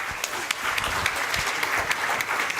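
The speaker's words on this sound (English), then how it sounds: "A huge round of applause," Loud, dense applause fills a university health sciences hall during a tuberculosis update event as a guest is honored; steady clapping from many hands with a few sharper nearby claps, holding evenly throughout.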